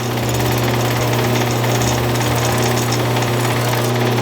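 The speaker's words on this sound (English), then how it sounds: "it's letting the Scotch-Brite pads rotate on the shaft" Scotch-Brite pads spin on a power tool shaft while restoring a Disston #28 tool box saw, a loud, continuous whirring rattle with a steady motor hum and no pauses.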